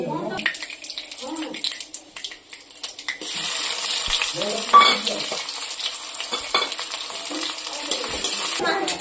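Fish sizzles in hot oil in a pan, with scraping stirs and light clatters. The frying hiss swells louder and steadier after the first few seconds and continues close up.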